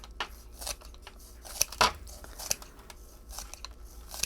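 Crisp snipping and crunching cuts through the roots of a catalpa tree, a handful of irregular close cuts with no talking.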